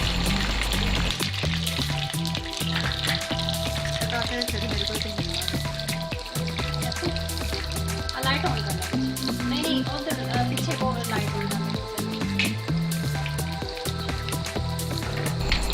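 Onions dropped into hot oil for a korma, a continuous crackling sizzle with scattered pops running the whole time, alongside some low background voice and kitchen noise.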